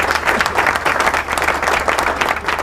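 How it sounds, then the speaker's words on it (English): Dense, steady applause from many hands, fairly loud and close, continuing without pause for under three seconds with no voices on top. "Applause!"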